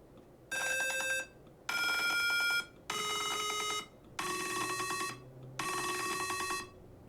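Simulated mini piano from a circuit simulation sounding five sustained electronic tones in steady succession, each about a second long with short gaps, bright and buzzy with strong harmonics, close and alone.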